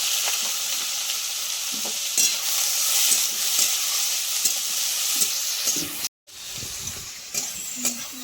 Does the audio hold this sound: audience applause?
no